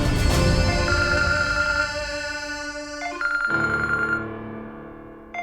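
A phone rings with a melodic electronic ringtone, a steady stream of bright tonal notes that shifts pitch partway through, close and clear with no voices over it.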